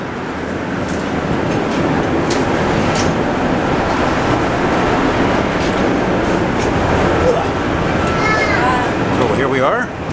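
A Bombardier MR73 metro train of the Montreal STM riding between stations, a loud, continuous rumbling roar with wheel noise throughout, and a high squeal rising near the end.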